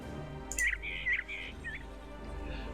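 In the Orwell's Animal Farm video game, a bird gives a few short, bright chirps close by, clustered within about a second over a low steady hum.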